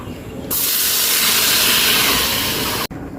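Spiced shrimp mixed with tomato and potato hits a hot pan, bursting into a loud, steady hiss and sizzle that holds for a couple of seconds before cutting off abruptly.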